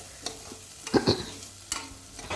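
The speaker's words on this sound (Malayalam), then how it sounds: "ഒന്ന് ചെറുതായി വഴറ്റുക അത്രയേ വേണ്ടു" Crushed garlic, ginger and green chillies are sautéed lightly for a vegetable pulao, with a few quick spatula scrapes and stirs over a low, close sizzle.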